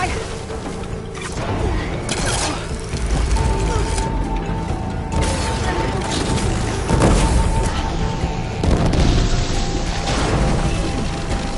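Mechanical robot machines moving in a PS4 video game, a dense stream of clanking, whirring and ratcheting metal noises with heavy thuds and occasional tonal hums, loud and continuous throughout.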